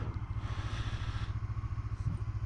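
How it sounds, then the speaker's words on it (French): Motorcycle engine idling, picked up by a microphone mounted under the seat, with a steady low rhythmic thumping pulse throughout, close and fairly loud with a slight clatter. "Petit test de prise de son du moteur ensuite que vous verrez un peu plus loin à partir d'un micro placé sous la selle."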